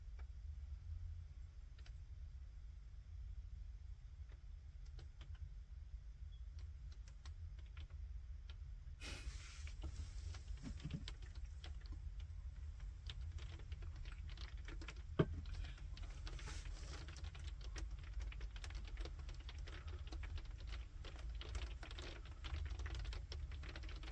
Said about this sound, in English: That sounds like snow and rain.